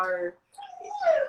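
A dog whimpers in short, high, wavering whines close to the microphone, heard just after a person speaks briefly.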